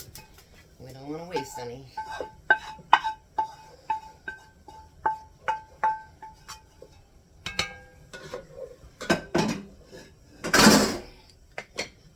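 Haluski ingredients are stirred together in a pot, a utensil clinking and scraping against the metal in a steady series of knocks, with a person talking briefly and a harsher clatter near the end.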